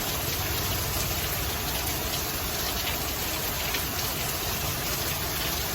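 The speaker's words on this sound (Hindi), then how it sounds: "ये बारिश बहुत ज़ोर से होने लगी" Heavy rain pouring down outdoors, a dense unbroken hiss of falling water that stays loud and constant from start to finish, with no voices.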